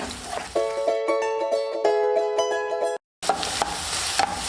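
Beaten egg is poured into a hot pan and spread for a kovakkaya mutta thoran (ivy gourd and egg stir-fry), giving a close, steady sizzle with sustained tonal scraping, a brief silent gap, then more frying.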